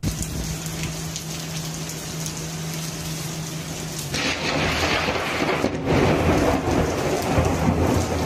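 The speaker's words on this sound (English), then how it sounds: "the instant a lightning strike knocked out the power in a city" A city thunderstorm starts with steady rain and a low hum, then a sudden loud thunder crack from a lightning strike hits midway, and heavier rain and rumble follow without any talking.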